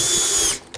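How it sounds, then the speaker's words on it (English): A power drill spins a 3/4 inch bit boring a hole for a water trough fitting, a close, loud high whine that cuts off abruptly, followed by a faint brief click. "So I'm going to do a 3/4 inch hole."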